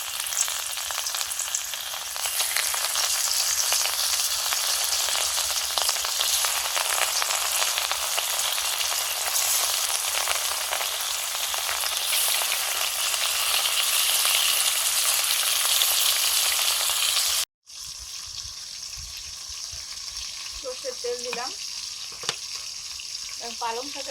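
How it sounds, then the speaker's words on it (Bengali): Bhangor fish fry in hot mustard oil with a loud, steady, dense sizzle that runs unbroken for most of the stretch, then drops to a quieter crackle with a few faint clinks. "এবার মাছগুলো দিয়ে দেবো তেলে"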